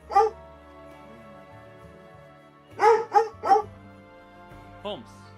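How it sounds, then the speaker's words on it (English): A dog barks close to the microphone: one bark, then a quick run of three loud barks and a fainter yip, over soft music during a Pokémon game session. "Apologies for the barking."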